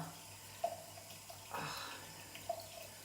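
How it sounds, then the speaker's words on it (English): Tap water runs faintly into a sink as a makeup brush is wet before cleaning, a soft low trickle punctuated by a few small splashes and drips. "I'm gonna wet the brush and I'm gonna stick it straight into the cleanser"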